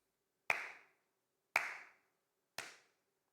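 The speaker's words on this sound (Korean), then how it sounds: "제가 이제 박수 칠 거예요. 몇 번 치는지 잘 들어보세요." Three single hand claps, evenly spaced about a second apart, each a sharp crisp slap with a short room echo, in otherwise near silence.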